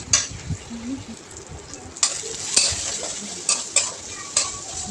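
Chopped tomato and masala sauté in a pan with a low sizzle beneath repeated spatula strokes, several sharp scrapes landing in an uneven rhythm up close.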